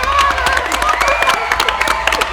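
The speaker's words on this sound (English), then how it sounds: "So let's give yourself a round of applause" Audience cheering and clapping at a comedy skit awards event, a dense continuous wash of applause with whoops and scattered sharp claps, loud and close throughout.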